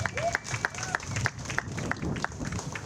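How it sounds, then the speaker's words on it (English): Applause from the audience at a community recognition fashion show, steady clapping through the whole stretch with a regular patter, medium distance, with faint voices and a tonal sound in the background. "Let's give them a round of applause as well."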